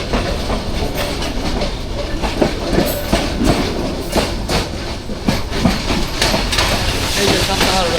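A passenger train runs along the rails at Santahar in Bangladesh, a steady loud rumble with rhythmic clickety-clack of wheels over joints and a hiss layered through, continuous and close for the whole stretch.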